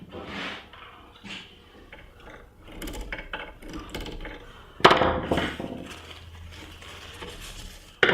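A screw is driven by hand into the lid of a wooden TV lift cabinet, giving soft intermittent creaks and ratcheting clicks, then a sharper knock midway, close and fairly quiet.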